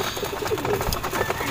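Racing pigeons coo softly inside a loft, their low, murmuring calls repeating faintly over a quiet background.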